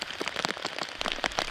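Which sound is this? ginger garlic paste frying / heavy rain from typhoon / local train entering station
heavy rain from typhoon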